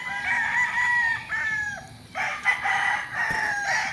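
A fighting rooster at a gamefowl farm in Barangay Santor, Tanauan City, Batangas, crows in a long, close, loud call, with other fowl crowing and clucking around it and no talk.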